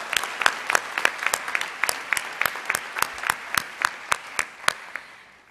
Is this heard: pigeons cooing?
no